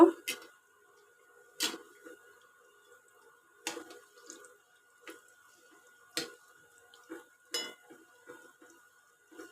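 Bengali palm fruit fritters (tal bora) are flipped in a frying pan, a series of sharp utensil scrapes and clinks spaced about a second apart over a quiet background.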